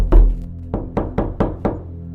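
Six sharp knocks on a door ring out in an uneven, deliberate rhythm, loud and close, each with a hollow resonant thud and no other sound.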